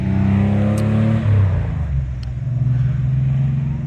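A Porsche-powered car cruises up a street at a concours event, its engine giving a low rumbling drone that shifts pitch as it eases along and passes nearby, with no one talking.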